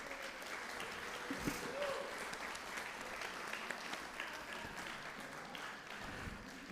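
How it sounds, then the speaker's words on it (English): A synagogue congregation at a Purim service and celebration applauds the actors, a soft, continuous round of clapping from a distant crowd that holds steady for nearly seven seconds. "let me get a clap of applause for our actors"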